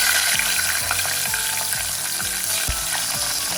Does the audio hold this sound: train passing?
no